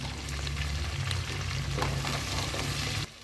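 Onion, garlic, chili and tomato fry in a pan for a village-style mutton kudal kuzhambu, a dense, close, continuous sizzle that cuts off abruptly near the end.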